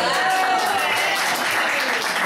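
Steady, dense applause from a school carnival audience, loud and continuous throughout with a faint voice underneath.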